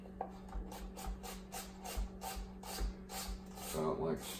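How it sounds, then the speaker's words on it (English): Knife cutting radial julienne strips through an onion on a board, a soft rhythmic series of rubbing, rasping strokes with a faint steady hum behind, while a person speaks briefly at the start. "make radial cuts to julienne this onion. Get fairly nice thin slices"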